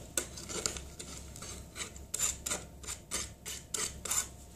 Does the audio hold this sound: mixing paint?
yes